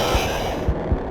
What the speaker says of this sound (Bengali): হার্টবিট